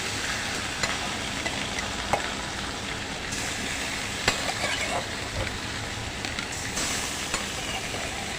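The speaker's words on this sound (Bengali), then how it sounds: "তো মাছগুলো আমি উল্টিয়ে পাল্টিয়ে ভেজে নেব।" Punti fish (sarpunti) sizzle steadily in hot oil in a pan, a dense continuous frying hiss with occasional clicks and taps as the pieces are turned over, close up and without any voices.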